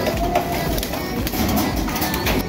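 Racing pigeons from a south race team coo steadily in a loft, their soft, murmuring calls overlapping under a constant rustling background with no clear talk.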